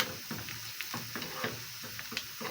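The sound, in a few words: onion frying in a pan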